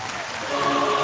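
Applause plays as a sound effect on a political talk radio broadcast, a brief, dense wash of clapping that swells slightly louder near the end.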